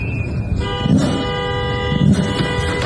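Car horns honk repeatedly at a street protest against ICE in Minnesota, with steady tonal blasts and two louder surges over a busy traffic background; no one speaks.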